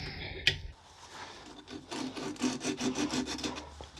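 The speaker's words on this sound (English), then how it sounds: "I've got some fabric back sandpaper here, so I'm going to" Fabric-backed sandpaper rubs against a lathe-turned wooden tulip in steady back-and-forth strokes. The scratchy, rhythmic sanding sound starts after a sharp knock and grows louder and faster. It is close and heard alone.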